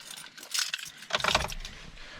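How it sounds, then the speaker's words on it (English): Keys jangle and a key turns in the ignition of a 2018 GMC Sierra pickup, two close metallic bursts of rattling and clicking, quiet and brief with no talking. "And then when I turn my ignition on"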